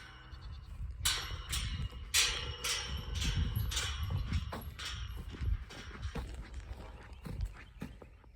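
Hooves clip-clop on a farm in steady, close steps with scuffing and thuds, while faint animal bleats mix into the background.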